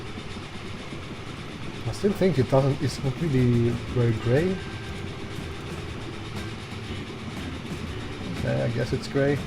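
A steel freight train runs along its line in Transport Fever, a low rolling rumble with faint rail clatter held steadily beneath close, continuous conversation.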